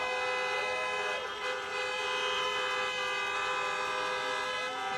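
Car horns sound at a drive-in campaign rally, many sustained, overlapping honks blaring together in a loud, continuous chorus with slight rises and dips in pitch.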